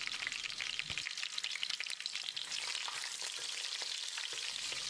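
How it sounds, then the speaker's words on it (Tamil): Green chilies and curry leaves crackle and sizzle steadily in hot peanut oil, with a few sharper pops and occasional stirring scrapes. "பாத்திரத்தில் 3 டேபிள் ஸ்பூன் கடலெண்ணெய், 2 பச்சை மிளகாய் நீல வாக்கில் நறுக்கினது, 2 கொத்து கருவேப்பிலையை சேர்த்து பிரட்டி விட்டுறலாம்."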